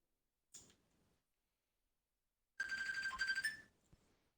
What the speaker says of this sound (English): I'm getting a Yeah. phone call